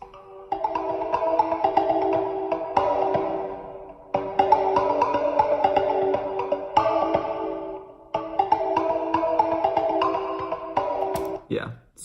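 A sound built from softly flicked and struck chandelier lamps, each close-miked, rings as shimmering, sustained metallic tones in three swelling phrases, with no talk over it.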